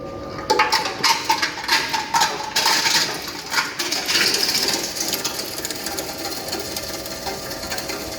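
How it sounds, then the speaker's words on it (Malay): A crusher machine grinding pots fed in one at a time, producing a loud, close clattering of rapid hard knocks and rattles at first, settling into a dense continuous grinding roar. "So sekarang kita nak try hancurkan"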